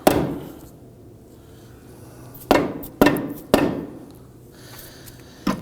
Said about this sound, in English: you can use a dead blow hammer and work this down and on